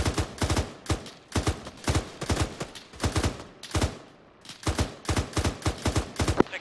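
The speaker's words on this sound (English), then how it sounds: "No, no, they're firing at the heli." Rapid bursts of automatic gunfire in Arma 3, aimed at a helicopter, crack out in repeated volleys of several shots each, loud and close, with short gaps between bursts.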